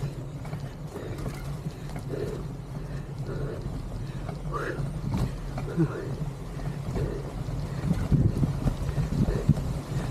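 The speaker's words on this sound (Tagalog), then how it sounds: "Uy, lakas ng hangin." Strong wind buffets and roars across the microphone in continuous gusts on the Uyungan Loop in Rodriguez, Rizal, while voices speak faintly underneath.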